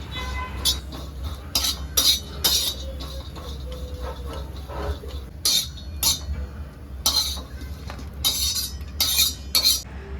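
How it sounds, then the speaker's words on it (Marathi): Dry ingredients for Kolhapuri mutton sukka being roasted in a pan, with bursts of metallic scraping and clinking from stirring over a low background hum, close by and with no voices. "आपल्याला इथे आता सुकं सुद्धा परतून घ्यायचं आहे ते सुद्धा आपल्याला चांगलं खरपूस भाजायचं आहे"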